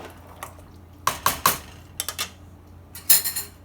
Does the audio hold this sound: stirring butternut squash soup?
yes